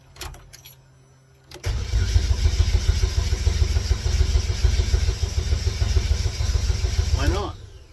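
An old race car's engine cranks briefly and then catches, settling into a loud, steady, close running rumble with a rise in pitch near the end; a voice is briefly heard.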